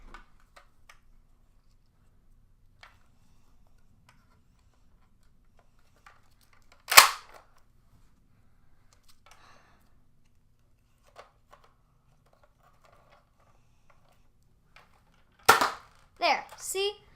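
A Nerf toy gun fired in its pistol configuration gives a sharp, loud pop near the middle and another burst of snapping clicks at the end, with long quiet stretches between.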